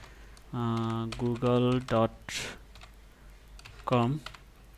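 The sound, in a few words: typing on a computer keyboard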